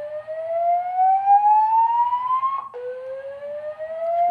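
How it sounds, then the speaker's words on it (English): An electronic alarm siren at the Grand Canyon wails in a steady rising sweep, breaking off briefly and restarting lower, loud and close with no talk over it. "The reason for the alarm is now being investigated."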